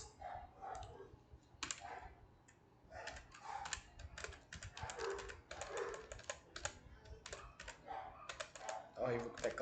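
Computer keyboard typing clatters in quick, irregular bursts of clicks throughout, close and fairly crisp, with brief pauses between runs of keystrokes and a faint low hum beneath.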